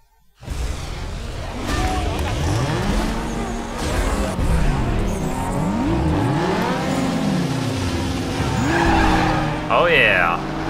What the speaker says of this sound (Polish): pojedźmy sobie drift